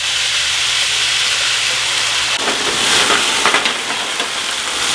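Cognac poured into a hot pan holding a cooked bavette steak, a steady loud hiss that bursts into stronger sputtering sizzle partway through and keeps crackling to the end.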